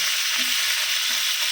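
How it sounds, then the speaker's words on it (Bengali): Potatoes frying in a pan to a reddish brown, a continuous close hissing sizzle with a couple of faint low clinks, no voices. "আলুটা লাল লাল করে ভাজা হোক"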